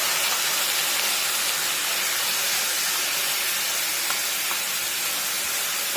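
Ground tomato paste hits hot oil in a pan during mushroom gravy cooking, giving a steady, loud, broadband sizzle and hiss that holds evenly for several seconds with no talking.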